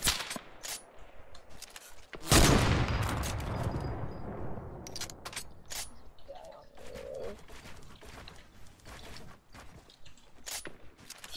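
A single loud gunshot in a team duos shooter match fires at about two seconds, with a long decaying echo, surrounded by faint game ambience, scattered clicks and bird-like coos.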